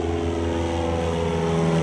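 A propeller airplane at an antique air show drones steadily and loudly with an even engine hum that swells slightly toward the end, with no talk.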